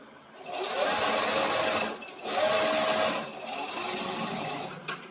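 An electric sewing machine runs a top stitch seam on fabric in a tailoring class, whirring steadily in three close bursts separated by brief pauses, with a light click at the end.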